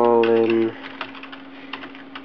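Keys tapped on a computer keyboard, a handful of light scattered clicks following a brief sustained tone, close and quiet.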